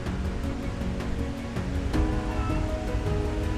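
Water pours down over stacked rocks in a steady, rushing hiss, fairly close and continuous with no voices.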